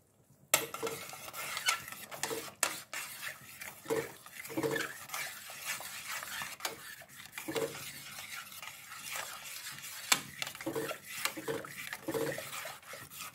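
A spoon stirs tomato pizza sauce in a pot, giving repeated scraping and sloshing strokes with light clinks against the metal and a faint simmering sizzle underneath, close-up and fairly quiet.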